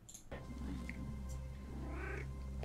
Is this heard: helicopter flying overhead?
no